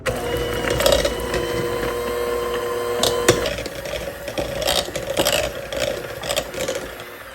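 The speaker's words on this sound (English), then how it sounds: "So we're going to beat this butter just until it's soft, about 30 seconds or so." A hand mixer beating butter for a gluten-free maple butter cake runs as a steady mechanical whir with rattling, clattering beater noise, loud and close throughout.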